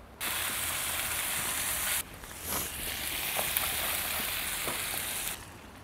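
Smash burger patties sizzling on a hot grill, a dense steady frying hiss with small pops, close and fairly quiet, with brief breaks where the sound cuts and resumes.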